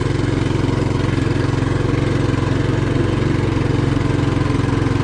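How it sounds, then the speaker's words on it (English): A Tillotson 212 engine fitted to a Trailmaster Hurricane 200 go-kart idles high, a steady loud buzzing drone with a fast even pulse, close by and running alone without talk. "look at how high the idle is."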